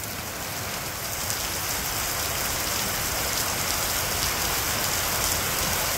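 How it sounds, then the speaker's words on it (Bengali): Steady monsoon rain falls on a village in Bangladesh, a dense, even hiss of drops on surfaces that holds at a constant volume throughout, with no voices. "বৃষ্টি একটু কমছে আর কি আগের থেকে"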